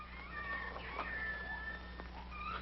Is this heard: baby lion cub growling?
yes